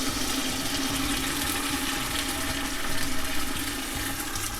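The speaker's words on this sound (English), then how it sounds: "I'm just going to empty out all those cans, then I'm going to add a little water to the can" Tomato puree pours from 28-ounce cans into a cooking pot for a Sunday sauce, a steady, fairly loud glugging and splashing stream of thick liquid heard up close without speech.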